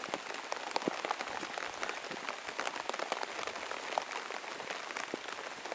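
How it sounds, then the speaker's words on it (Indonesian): Rain falls steadily on a rice field, a dense, even patter of countless drops with scattered sharper taps close by, continuous and moderately quiet throughout with no talking. "saya berada di pesawahan dan kehujanan"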